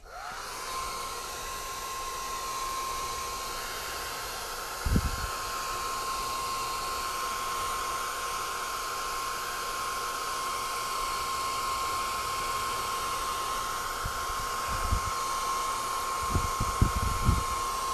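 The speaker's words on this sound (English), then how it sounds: "would you mind trying to blow it dry with that hair dryer?" A hair dryer blows continuously at a steady, whooshing drone with a constant whine, close and loud throughout, with a few faint knocks and bumps near the start and end.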